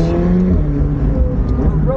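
A McLaren 765LT Spider hypercar accelerating hard, its engine note droning and rising steadily close by while someone talks over it throughout.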